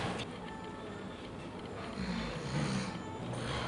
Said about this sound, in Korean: 얕게 코골이마저 누리는 모습이 안쓰러워 보입니다.